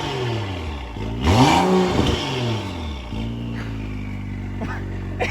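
A BMW 335i (E90/E92) fitted with a modified M Performance exhaust accelerates on a highway, heard from inside the car: a loud, droning exhaust note that swells and sweeps up and down in pitch, then settles into a steady hum.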